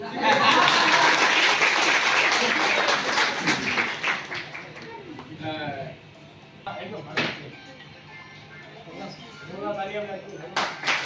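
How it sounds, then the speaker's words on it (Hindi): Audience applause at an influencer meetup in Deoria, a dense wash of many hands clapping for several seconds that thins out into scattered claps, with people talking over the fading applause. "चलो तालियां बजाओ पहले"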